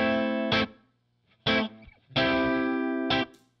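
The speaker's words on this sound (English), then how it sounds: "you will hear the guitar amp as recorded through that very expensive signal chain I was just telling you about" Guitar amp captured through a high-end chain of Warm Audio microphone, preamp and compressor: loud, saturated chords ring out in three separate bursts with short gaps of quiet between them.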